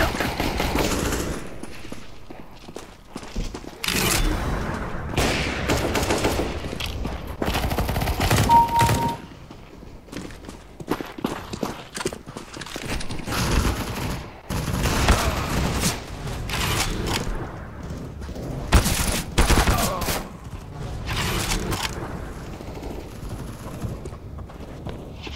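Rapid bursts of gunfire from Counter-Strike: Global Offensive, sharp repeated shots and volleys in fast clusters, loud and close throughout with no talking.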